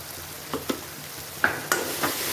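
A spatula stirs red chili, garam masala and turmeric into an egg bhurji mixture in a frying pan, giving several sharp scrapes and taps over a soft, steady sizzle.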